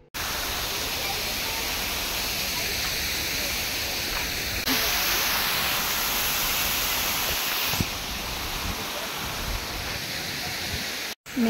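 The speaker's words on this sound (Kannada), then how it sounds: "ಮೇಲಿಂದ ನೀರು ಬೀಳ್ತಿರುವಂಥ ಸೌಂಡನ್ನ ಕೇಳಿಸ್ಕೊಳ್ಳೋದಕ್ಕೆ ಒಂಥರ ಚೆನ್ನಾಗಿ ಅನಿಸುತ್ತೆ" A waterfall at India's biggest aviary park produces a constant rushing hiss of falling water, loud and steady throughout, with faint voices in the background.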